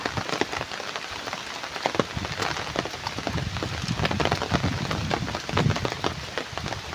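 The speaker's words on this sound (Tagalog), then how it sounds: "Nakapayong tayo ngayon dahil hindi pa tumila ang ulan." Steady rain patters densely over a flooded rice field in the Philippine countryside after a typhoon, a continuous close hiss of drops without talk.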